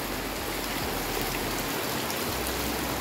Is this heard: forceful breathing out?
no